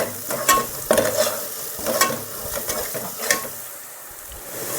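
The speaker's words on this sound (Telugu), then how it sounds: "ఈ జింజర్ గార్లిక్ పేస్ట్ బాగా ఫ్రై అవ్వాలి, పచ్చిదనం పోవాలండి" Ginger garlic paste fries in a pan with a pinch of salt for a spicy boti curry. It gives a close, continuous sizzle punctuated by several sharp scraping strokes of a stirring spoon.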